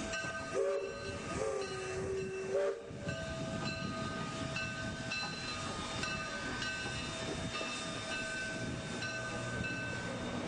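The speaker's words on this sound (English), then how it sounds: "Wow, chat, really good train sounds." A train rolls steadily in the Zero Sievert game, with a continuous rail rumble and hiss, brief whistle tones near the start, and no voices.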